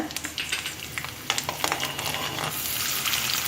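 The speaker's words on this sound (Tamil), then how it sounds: "எண்ணெய் வந்து சூடானோன்னே நீங்கள் வந்து வெட்டி வச்சுருக்க பூண்டை போட்டு நல்லா ஃப்ரை பண்ணிக்கோங்க" Chopped garlic fries in hot oil for a Kerala-style tomato roast, a close, steady sizzle broken by spatula scrapes and stirring clicks that thickens into a denser crackle toward the end.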